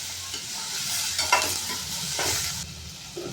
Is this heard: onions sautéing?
yes